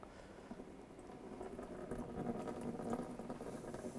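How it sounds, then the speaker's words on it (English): Coolant draining slowly from a 2002-2009 Chevy Trailblazer during a water pump replacement, a soft continuous liquid patter and trickle that swells a little louder midway and stays steady, close and fairly quiet. "And just let the coolant drain out nice and slow."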